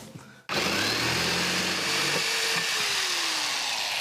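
A jigsaw bites into wood for a stretch of several seconds: a loud, steady buzzing cut that starts abruptly from a quiet room, its pitch drifting slightly as the blade works through the board.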